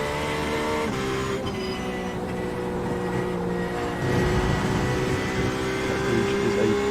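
A race car engine drones steadily and loudly in a Le Mans racing game on cold tyres, a close, continuous whine that swells slightly partway through.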